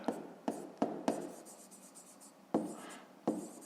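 A pen scratches on paper while a fifth-grade math exercise is worked out, in short bursts of close, quiet strokes separated by brief pauses.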